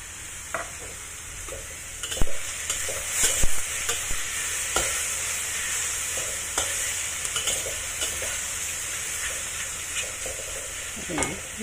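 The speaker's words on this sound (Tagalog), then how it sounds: "i-fry lang natin yan na hanggang maging brown ng kaunti yung onions at saka garlic" Onions, garlic and mushroom stir-fried in a pan for Chinese-style pork giniling, a steady close sizzle broken by scraping spatula strokes and occasional clinks against the pan.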